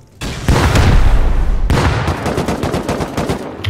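Grenades exploding in a video game shooter: two sharp, loud blasts about a second and a half apart, each followed by a rattle of rapid gunfire, with no voices.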